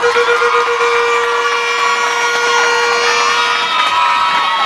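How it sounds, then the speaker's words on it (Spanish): A crowd at a Fuerza del Pueblo political rally in Río San Juan cheers and applauds in a loud, continuous, dense roar that holds steady throughout, with sustained whistle-like tones running through it. "fuerte el aplauso, señores, que se siente ese aplauso, fuerte"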